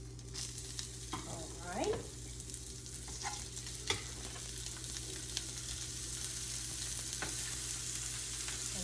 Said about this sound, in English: You can hear it sizzle just a little.